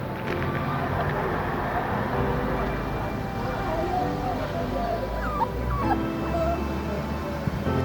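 Very young puppies whimpering and yipping beside their mother in freezing cold, thin high whines rising and falling over a steady dull background.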